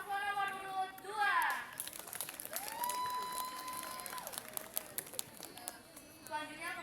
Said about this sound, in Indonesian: Tepuk tangan yang meriah untuk paslon nomor urut 2.